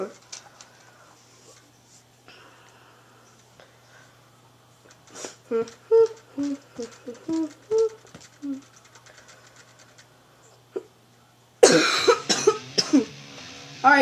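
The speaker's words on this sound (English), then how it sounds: "Excuse the cough. I have a little bit of a cough right now." A person's cough breaks out as a sudden loud, close burst near the end, following a stretch of someone talking over quiet background sound.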